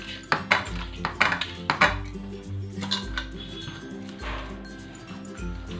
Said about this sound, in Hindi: अच्छे से इसे हमें मैश करना है ताकि इसमें गिटली ना रहे।